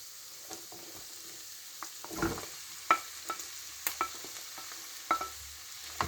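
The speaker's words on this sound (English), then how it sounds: "Now we're going to add the potatoes and the tomatoes." Potatoes and tomatoes cooking in a pan with softened onions and garlic, a quiet low sizzle broken by scattered clinks and scrapes of a utensil stirring, close by, with no voices.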